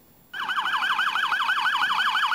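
An emergency vehicle siren suddenly starts up loud and close, wailing in a fast, steady rising-and-falling cycle, as the vehicle arrives to rescue a victim trapped in wreckage.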